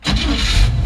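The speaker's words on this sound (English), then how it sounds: "Fires right up." A 1953 Chevrolet 3100 pickup truck with an older Corvette V8 turns over and catches quickly, settling into a loud, rumbling idle close by.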